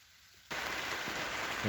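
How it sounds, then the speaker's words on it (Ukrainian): Steady evening rain at a pig farm suddenly swells into a dense, close hiss of drops pattering on surfaces, continuous throughout with no talking. "У нас зараз дощ, все мокре."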